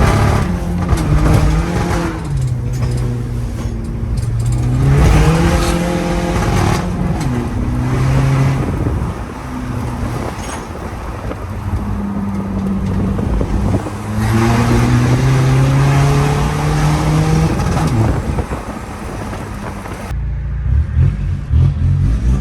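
A VW Caddy PD130 van on a dyno revs hard through first and second gear, its loud engine climbing steeply in pitch through each gear and dropping at the shift, sustained and close for about twenty seconds.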